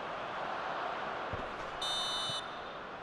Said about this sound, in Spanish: Aquí está el pitido final